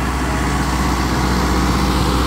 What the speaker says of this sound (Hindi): और ट्रैक्टर बड़े मज़े में चल रहा है जी इतने हाई चक्करों पे